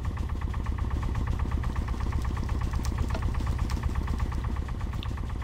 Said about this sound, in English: Let's turn off that pump.